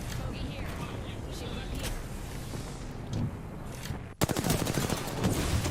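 Dense automatic gunfire crackles through a competitive Apex Legends battle royale match, a steady barrage that turns into sharp, rapid bursts near the end, with voices talking underneath.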